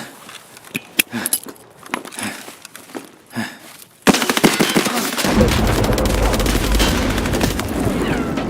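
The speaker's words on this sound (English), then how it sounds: "Start throwing grenades." Gunfire and grenade blasts from the video game Escape from Tarkov: scattered shots under quieter stretches, then from about four seconds a loud, sustained barrage of rapid automatic fire and explosions that fills the rest.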